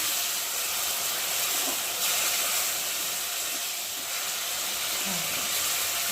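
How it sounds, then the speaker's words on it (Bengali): Mashed tomato tipped into a hot pan of softened frying ingredients for aloo chokha, giving a broad steady hiss and sizzle throughout, with faint scraping as it is stirred. "আর এর মধ্যে এখন মেখে রাখা টমেটোটাকে ঢেলে দেবো। ভালো করে নাড়াচাড়া করে"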